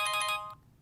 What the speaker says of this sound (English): Ringtone 1,